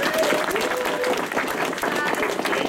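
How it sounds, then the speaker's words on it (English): A fan panel audience at Dragon Con 2014 applauding Dana Swanson, a dense wash of clapping that holds steady throughout, with a voice speaking over it. "Please give a round of applause to Dana Swanson."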